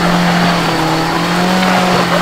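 Subaru car with a steady engine drone and a continuous squeal of tires while driving, loud and close, in a wooded setting, with a voice faintly under the noise.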